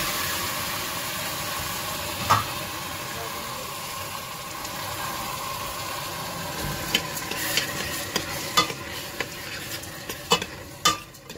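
Vermicelli frying in a pan while pilaf is made, with a constant sizzle underneath. Sharp scraping clicks from stirring grow more frequent toward the end.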